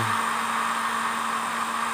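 A hair dryer blows steadily on a water-damaged Samsung A32 phone, a loud, even whooshing hum with a constant motor tone and no voices.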